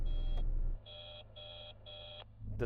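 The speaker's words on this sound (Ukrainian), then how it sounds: "Хтось намагається мені зателефонувати. Це ніби вони телефонують з початку 90-х." Electronic phone ringtone with an old-fashioned sound: three evenly spaced high beeps, moderately loud, with low rumble before and after.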